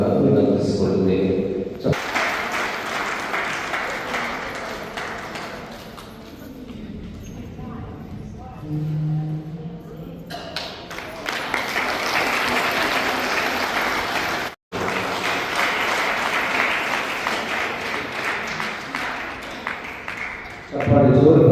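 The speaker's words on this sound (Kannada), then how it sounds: "ಚಪ್ಪಾಳೆ ಜೋರು ಬರಬೇಕು." Audience applause at a Catholic association's blanket distribution event in Gulbarga, coming in bursts of loud clapping separated by quieter stretches, with a brief dropout partway through.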